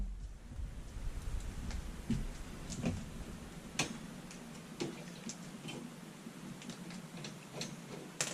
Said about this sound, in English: we're just going to pop those really short machine screws in real quick